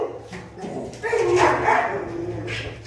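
A small abandoned puppy whimpers and lets out high, thin yips close by, mixed with soft rustling and a person's voice speaking nearby.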